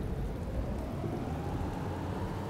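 Steady, dense rain pours in a rainy town in the DayZ survival game, a constant broadband roar with a low rumble underneath, loud and unbroken, with no talking.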